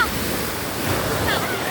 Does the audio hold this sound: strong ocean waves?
yes